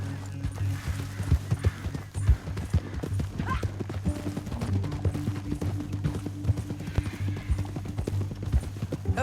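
Horse hooves clip-clop in a steady, continuous rhythm, fairly close, over a low droning background, in the Saint Denis area of a video game.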